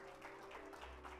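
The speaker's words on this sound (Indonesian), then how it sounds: "Kita tepuk tangan yuk." A church audience claps together in steady applause, a dense patter of hands that is faint and continuous throughout.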